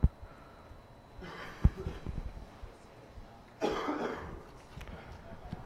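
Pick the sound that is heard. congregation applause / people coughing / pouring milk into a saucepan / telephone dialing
people coughing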